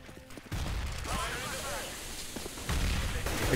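Grenades bursting in Counter-Strike on the Cobble map during a smoke execute, a dense sustained roar of blasts and hissing smoke under game noise, loud and continuous throughout.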